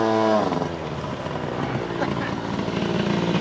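A motorcycle rolls along a road, its engine giving a steady buzzing drone at moderate volume after a brief rise at the start, with a voice talking over it.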